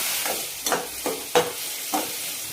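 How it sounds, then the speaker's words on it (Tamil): Coconut paste sautéing in a pan with a tempering, the ingredients stirred in a steady rhythm of scrapes and stirring strokes over a soft continuous sizzle, close and moderately loud, with no talking. "அந்த பேஸ்ட்டையும் போட்டு நல்லா வதக்கணும்"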